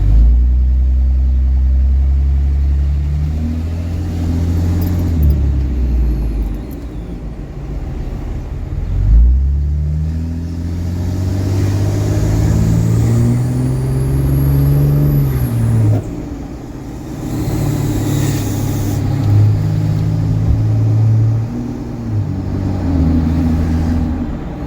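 A Cummins diesel truck engine rumbles and revs steadily, with a thin high-pitched squeal rising faintly above the low drone.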